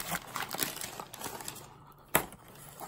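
Crinkly packaging rustles and crackles up close as a freshly cut-open package is pulled apart, a string of short plastic crunches ending in one sharp snap.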